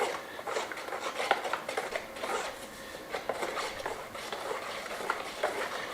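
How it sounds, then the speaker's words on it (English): Lime wash mixed with charcoal pigment is stirred by hand in a container, giving a steady close-up scraping and sloshing with irregular soft knocks that runs the whole time, with no talking. "Stir it in manually first."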